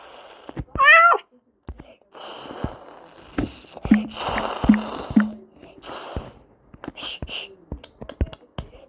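A cat meows in a video game, one clear rising meow near the start, followed by snuffly game sounds, clicks and soft thumps while people talk.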